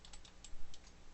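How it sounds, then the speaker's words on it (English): A single key tapped on a computer keyboard among a few light clicks while working in Autodesk Maya 2019, with one slightly louder keystroke near the middle, close and crisp without talking. "tapping 3 on the keyboard."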